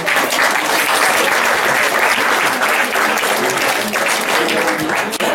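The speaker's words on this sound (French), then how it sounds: "Nous t'applaudissons, nous t'applaudissons." A seated audience applauds warmly and continuously at a poetry gathering, a dense steady patter of many hands clapping throughout.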